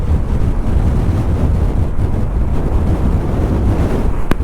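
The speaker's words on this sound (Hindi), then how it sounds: "और भाई साहब हवा चल रही है बहुत तेज।" Strong wind buffets across an open, ground-level highway in Ladakh flanked by mountains, a loud, continuous roaring rush with gusty low-end microphone rumble throughout.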